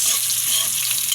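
Onion stirred into sardines sautéing in a pan, a dense, steady frying hiss with faint stirring scrapes, close and constant, no speech.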